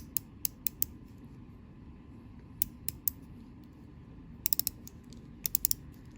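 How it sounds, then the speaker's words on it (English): The bezel of a slim NOVE diver watch is turned by hand, producing small, crisp ratcheting clicks in short bursts and single ticks, close and quiet against near silence. "let's get that bezel action one more time"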